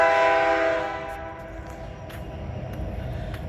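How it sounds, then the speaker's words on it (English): A second train passes on the railroad at a crossing, its horn sounding loud and close at first, then fading into a steady rumble of rolling wagons with faint clanks. "There's another train coming this way, obviously."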